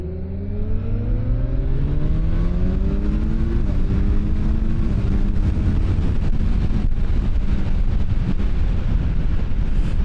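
The inline-four engine of a Kawasaki Ninja 1100SX revs up steadily and climbs in pitch, loud and close under heavy wind rush from riding, with no talk.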